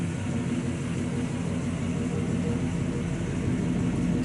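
A 1957 Chevrolet Bel Air two-door post idles through an exhaust with stainless tips, giving a steady, continuous rumble close by, with no talk over it.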